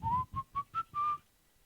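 A person whistles a short tune of five clear notes, the last held longer, close and alone, ending in quiet.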